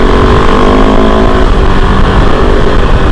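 Kove 450 Rally motorcycle accelerating hard in gear, a loud, close, continuous engine roar that holds steady for about three seconds with no voices over it.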